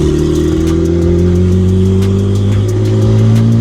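A BMW E60 with an N54 turbo engine pulls hard while driving, its loud, steady drone rising in pitch as it accelerates, heard close from inside the car.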